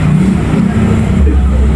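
A vehicle engine starting and running after a broken drive belt was replaced, a steady loud mid-low rumble throughout the short moment.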